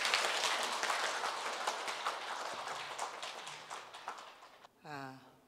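Applause from a seated audience at a Buddhist temple association's seventh-anniversary ceremony, a dense steady patter of many hands that fades gradually, followed by a brief voice at the end.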